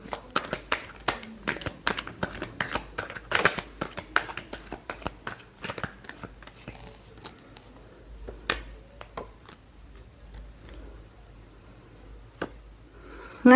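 Tarot cards being shuffled by hand, a run of quick crisp riffling flicks and soft slaps, dense and lively at first, then thinning to sparser taps and pauses, close and fairly quiet.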